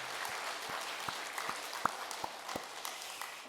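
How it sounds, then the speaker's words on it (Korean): Scattered applause from a church congregation at a Sunday worship service, soft and diffuse with a few distinct claps standing out, fairly distant and low in level. "우리 하나님 앞에 영광의 박수 올릴까요?"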